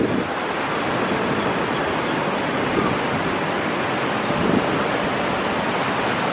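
Continuous wash of sea surf, a dense even hiss of breaking waves with some wind, heard alone.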